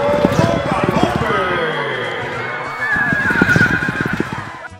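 A horse whinnies with quavering, drawn-out neighs, two long bursts separated by a short pause, loud and close, accompanied by hoof-like clopping.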